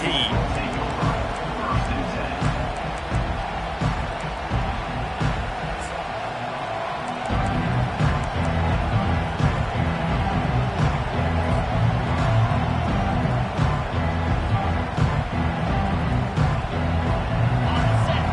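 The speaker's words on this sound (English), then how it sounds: "This crowd, full throat, spreading the eardrums and letting them know it's going to be a long day." A football stadium crowd at an NCAA college game between TCU and Michigan roars at full throat, a dense, loud, sustained wall of cheering that swells after a slightly quieter opening stretch.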